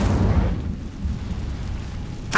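An Incendio fire spell cast in Hogwarts Legacy, a loud, rumbling, whooshing burst of flame that fills the moment and ends with a brief bright crackle.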